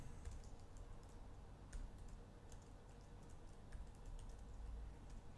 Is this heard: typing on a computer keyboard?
yes